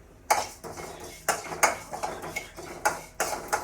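A spoon stirs cumin into a Kundapura-style fish curry mixture, scraping and clinking against the pot in about nine uneven, close strokes with quiet gaps between them.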